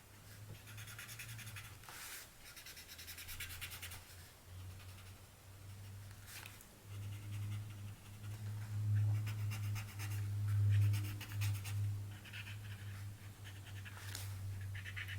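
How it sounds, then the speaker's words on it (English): Soft scratchy rubbing of a tortillon blending graphite across textured paper, continuous strokes with slight swells, close and quiet, under a steady low hum. "I often enjoy the noise of the tortillon over the texture of the paper"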